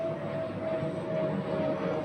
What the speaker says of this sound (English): there's an aeroplane